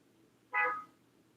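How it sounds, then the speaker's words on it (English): A single short car horn honk, moderately loud and slightly distant, stands out against a quiet, faintly humming background. "I don't know where that honk came from"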